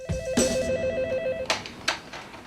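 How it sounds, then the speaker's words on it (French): An outgoing telephone call rings at the caller's end near the Eiffel Tower, with a repeated electronic ringing tone in even pulses, then a couple of sharp clicks and knocks as the line connects. "Sur place, Manuel téléphone à la voyante et se contente d'écouter pour ne pas donner d'indication."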